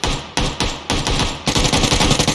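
Rapid automatic gunfire from PUBG Lite on the Erangel map rattles out in loud, close bursts separated by brief gaps, then a longer sustained volley at the end.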